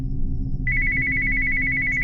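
A phone on a table rings with an incoming call from an unknown number at 3 a.m. A steady electronic ringtone starts after a brief pause and holds as one continuous tone over a low background hum.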